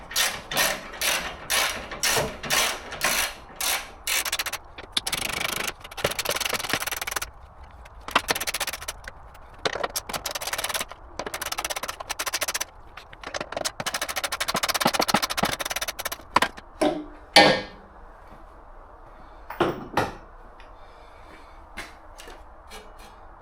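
Bolts on a car's front end undone with a ratchet while removing the bonnet catch, headlights and radiator: loud, close bursts of rapid clicking, repeated many times with short pauses.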